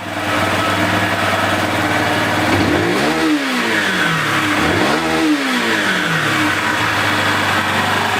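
A Zipp VZ-6 scooter engine runs close by, with a steady idle and two short throttle blips that rise and fall in revs. No voices are heard.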